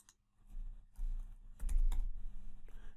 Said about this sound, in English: type in this window here